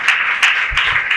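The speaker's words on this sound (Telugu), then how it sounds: "చప్పట్లు కొట్టను గట్టిగా" An audience at a church sermon claps together in a few brief rhythmic bursts, moderately close and fairly loud, with no voice over it.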